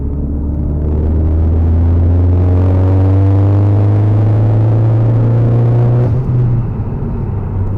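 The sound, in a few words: Ford Focus ST MK3 with REVO Stage 2 accelerating in gear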